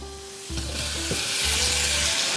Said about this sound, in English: for the sauce, we're going to brown off some butter